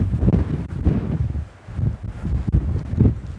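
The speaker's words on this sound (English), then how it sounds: "Wind is coming from that direction." Wind blowing across the open, exposed Coombestone Tor, buffeting the microphone in loud, uneven rumbling gusts that ease briefly before rising again.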